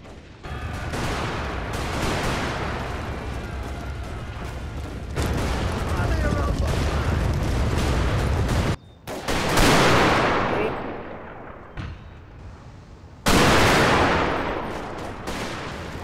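Rifle volleys and artillery fire in a Total War game battle between British troops and Zulu warriors at Ulundi, a dense, continuous roar of gunfire with heavy booming surges and brief lulls.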